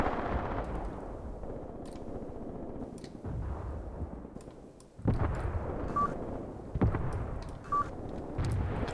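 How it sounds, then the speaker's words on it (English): Repeated 5 cm mortar shells slam down in a forest battle in the war game Graviteam Tactics, sharp booming impacts scattered irregularly at moderate distance over a low rumbling battlefield background. "This is just, I think, 5 centimeter mortars hitting here."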